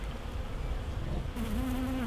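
Honey bees buzz around an open hive at a city farm in Nottingham, a soft continuous drone close by, with one bee's pitch briefly rising near the end.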